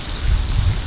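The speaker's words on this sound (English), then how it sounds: "but it's raining." Steady rain falls outside on a hot day, a dense, even hiss of drops with low rumbling underneath, loud and continuous with no talking.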